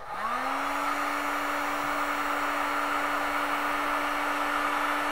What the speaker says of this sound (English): Now I'm applying some heat using my heat gun.